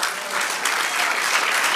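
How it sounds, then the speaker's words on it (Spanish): Church congregation applauding together in steady, dense clapping that fills the space throughout, loud and continuous with no break. "dale un aplauso al Señor."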